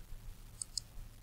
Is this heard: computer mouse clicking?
yes